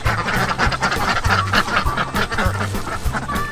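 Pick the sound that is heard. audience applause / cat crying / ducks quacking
ducks quacking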